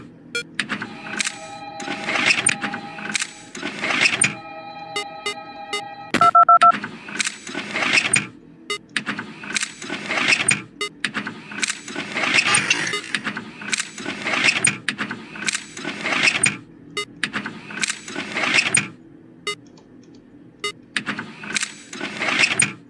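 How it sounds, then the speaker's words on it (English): Rapid repeated phone-dialing beeps and clicks from the Five Nights at Candy's 2 video game, a dense steady stream of electronic tones lasting throughout without talk. "I keep on spamming that phone"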